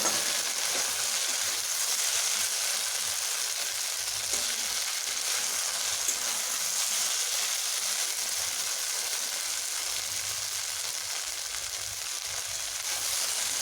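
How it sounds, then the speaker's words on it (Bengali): Okra (lady's finger) frying in a pan over medium heat, giving a steady, close, continuous sizzle with fine crackling throughout and no voices. "এবার আমি মিডিয়াম হিটে ভেজে নেব"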